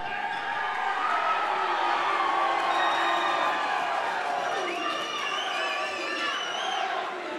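Crowd at an XFC fight event roaring and cheering, a loud sustained din with shrill whoops and whistles rising out of it toward the end, continuing without pause.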